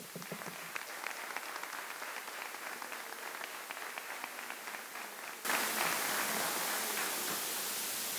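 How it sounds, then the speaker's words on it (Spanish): Audience at a formal civic event in Seville, Spain, breaks into steady applause at moderate level; partway through, a hiss of broadband noise rises over the clapping and continues to the end. "Vamos a darle un fortísimo aplauso a Aurora Atoche."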